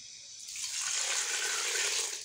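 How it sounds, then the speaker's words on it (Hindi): Water pours steadily into a shami kabab lentil mixture in a cooking pot, a close, continuous splashing stream with no talk. "अब हम लोगों ने इसके अंदर पानी ऐड करना है।"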